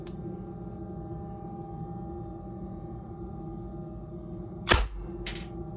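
A TMC Homedefender airgun fires two sharp cracks about half a second apart near the end, the first louder, standing out over a steady low background hum with no talking.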